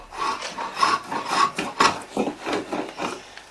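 Wood is rubbed with a rasp while a handmade Leitrim chair is shaped, giving rhythmic, close, raspy strokes at roughly two per second, loud and alone.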